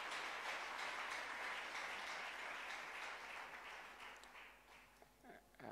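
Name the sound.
congregation clapping hands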